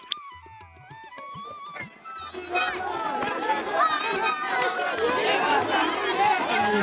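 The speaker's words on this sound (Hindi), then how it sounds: "यहाँ पर सारे लोग यात्री आए हुए हैं। देखें भीड़ देखें, रश देखें" A dense crowd of pilgrims chatters at the Sita Mata temple in Hinglaj, Balochistan, voices overlapping in a steady hubbub with children's calls mixed in, after a quieter, sparser opening.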